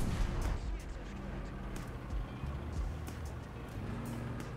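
A KV-1B Soviet tank fires its cannon in a video game battle, with a few heavy booming shots over a constant low engine rumble and a dense mix of battlefield noise.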